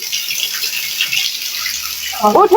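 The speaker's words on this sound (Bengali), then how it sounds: "এই যে পানি ছেড়ে দিতেছি" Water runs from a tap in a steady hissing stream, close and fairly loud, ending with a short splashy burst as the flow changes.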